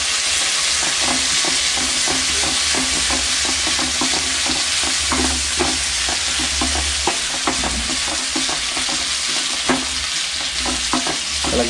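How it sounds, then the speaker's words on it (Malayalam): Afghani omelette mixture being stirred in a frying pan, with a steady loud sizzle and quick scraping stir strokes running throughout, no voices. "ഇളക്കി കൊടുക്കുക."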